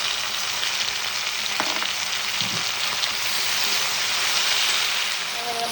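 Okra, tomato and shallots with a little garlic sauté in a pan for Kerala sambar, giving a steady, close, loud sizzle that hisses on without pause, with a couple of faint knocks of stirring.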